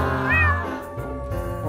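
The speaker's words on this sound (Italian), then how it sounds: "Gattino, piccolo gatto!" A kitten gives one clear, rising-then-falling meow early on, close and fairly loud, over a steady background hum with no talking.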